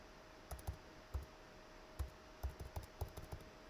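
A Wi-Fi password is typed on a computer keyboard in a quiet room, with soft irregular keystroke clicks in short bursts separated by brief pauses and no talking.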